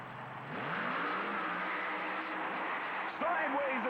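An early model five-window Ford coupe drag racer with a Chevrolet engine idles and creeps forward while staging at a 1991 USHRA event in Landover, a steady engine drone with rising revs near the end, under a commentator's voice.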